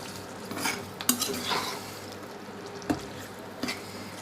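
Koi, taki and shing fish are mixed with spices in a pan, with a utensil scraping and knocking against the metal in several separate strokes over a faint sizzle, close by and without speech.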